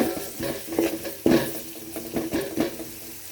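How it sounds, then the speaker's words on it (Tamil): Onions sauté in oil with fennel and cumin for a fish curry, a low sizzle broken by repeated scraping strokes of a spatula against the pan, up close. "வெங்காயத்தை நல்லா வதக்கிக்கலாம்."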